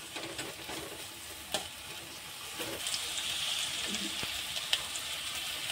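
Finely chopped capsicum (bell pepper) fries in a pan for dhaba-style paneer masala bhurji, a quiet steady sizzle broken by a few sharp stirring clicks.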